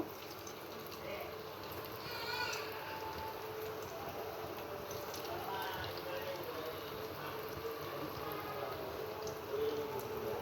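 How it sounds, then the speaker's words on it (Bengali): Chicken tikia patties deep-fry in hot oil and are turned from side to side, giving a steady, even crackling sizzle at moderate distance throughout. "চিকেন টিকিয়াগুলো এই যে আমি এভাবে ভেজে নিচ্ছি এপিট ওপিট করে একদম"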